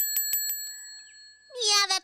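A cartoon bell rings in a few quick, bright dings that ring out and fade, followed by a short burst of a high, animated character voice.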